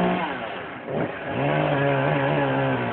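A chainsaw trimming a tree in North Little Rock, Arkansas on a morning, its engine droning loud and steady with a brief dip in revs before climbing back to a sustained whine.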